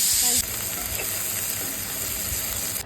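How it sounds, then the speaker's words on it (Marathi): Sliced cabbage frying in a pan gives a steady close sizzle and hiss that drops slightly after a loud first moment, with faint stirring scrapes and no talk. "कोबीला जराशी फ्राय करून घेतले म्हणजे ती क्रिस्पी होईल थोडीफार"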